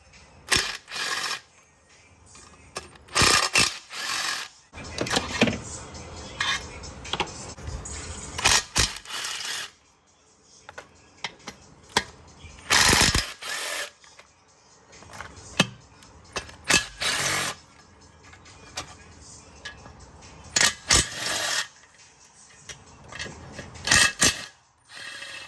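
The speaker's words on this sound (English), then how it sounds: "we're gonna be taking off a total of 8 bolts" A ratchet works intake manifold bolts loose on a Genesis Coupe 3.8 in repeated bursts of rapid clicking, close and sharp, separated by quiet pauses and small metallic handling noises.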